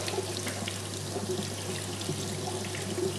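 Tap water runs steadily over hot cooked beetroot as its skin is peeled off, a constant close splashing stream with a low hum underneath.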